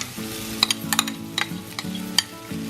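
Diced potatoes go into a pan for samosa filling and are stirred, with close scraping and clacking strokes at an irregular pace over a continuous sizzle of frying.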